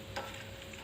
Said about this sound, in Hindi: मैंने कढ़ाई में तेल डाल लिया और ये तेल गर्म हो गया। इसमें डालेंगे कुछ खड़े मसाले